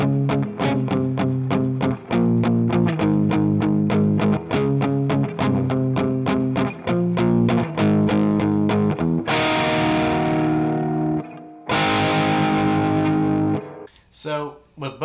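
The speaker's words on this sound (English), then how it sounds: "This should be the Les Paul." A Les Paul electric guitar tracked in a Nashville studio plays a distorted rock part, loud and close with rapid, regular picked chords, a pair of sustained ringing chords near the end and brief gaps between phrases.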